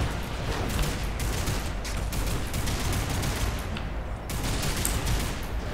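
Rapid automatic assault-rifle fire in the video game Lost Planet 3, dense continuous bursts with a brief pause near the end before shooting resumes, loud and close.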